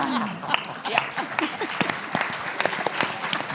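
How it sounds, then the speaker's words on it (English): Audience applause closing a panel debate on Africa, a steady patter of clapping from a seated crowd, fairly even and sustained, with a faint voice audible beneath it. "Please give a big round of applause for our fantastic panel."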